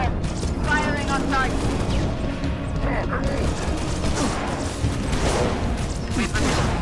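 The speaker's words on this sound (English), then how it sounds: "I'm under fire!" Sustained gunfire and mechanical weapon clatter from the video game Halo: Reach, dense and continuous throughout, with a voice speaking over the battle noise.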